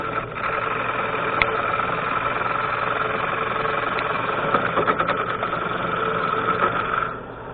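A wood lathe runs steadily with a continuous mechanical hum and rattle while a bowl gouge cuts a bowl, the sound holding loud and close for several seconds before easing off at the end, with no voices.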